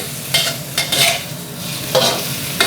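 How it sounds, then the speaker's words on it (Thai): Mushrooms stir-fried over high heat in a wok: loud, close hissing sizzle broken by several sharp bursts of tossing and scraping, with no voices. "เมนูนี้โจ๊กใช้ไฟแรงตลอดนะครับ ไม่มีช่วงที่เป็นไฟอ่อนเลย ว่าเราเน้นผัดเร็ว"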